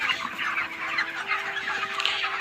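Broiler chickens on a farm cluck steadily as a dense, continuous flock chorus, close and fairly loud, with no talking over it.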